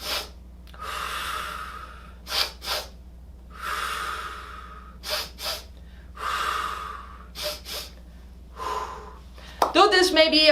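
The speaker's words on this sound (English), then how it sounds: "it simply involves 2 fast inhales and 1 long exhale" A breathing exercise of two quick, sharp inhales followed by one long exhale, repeated several times in a steady rhythm of loud, close breath bursts, with a short burst of voice at the very end.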